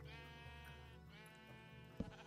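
Sheep in a video game bleat in drawn-out, wavering calls, two long bleats close together, with a sharp click near the end; fairly quiet and alone.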